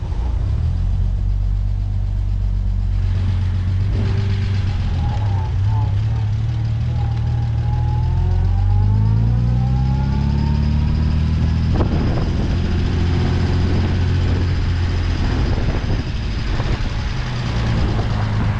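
A 1958 Lancia B24S Aurelia engine pulls away in low gear at low revs, a deep steady rumble that rises gently in pitch, heard close inside the car.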